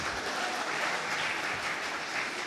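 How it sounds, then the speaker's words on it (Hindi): A crowd at a Zee conclave claps in a steady, even roar, a fairly distant wash of hands with no single claps standing out, sustained at a constant level throughout. "खुल के बजाओ ना ताली अगर मन कर रहा है"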